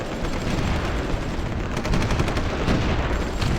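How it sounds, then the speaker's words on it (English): Artillery fire in the strategy video game Supreme Ruler Ultimate, a dense, continuous barrage of rapid booming and crackling shots pounding a bridgehead, loud and unbroken with no talking. "And our artillery is certainly pounding on that bridgehead there"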